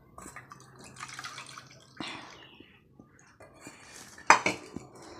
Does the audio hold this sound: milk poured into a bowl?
yes